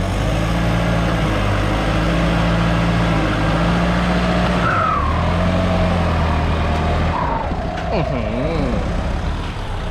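A turbocharged truck engine droning loud and close at a land-clearing job, holding steady then revving through shifting pitches with a rough, booming exhaust, while people call out over it.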